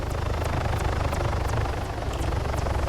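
A helicopter in a Call of Duty game gives a loud, continuous rotor thump and engine drone with a steady rhythmic chop, close and unbroken, with no voices heard.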